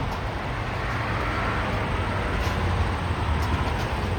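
A train passes close to a car parked in a roadside emergency stopping spot, giving a loud, steady low rumble and rolling roar that holds unbroken for the whole stretch.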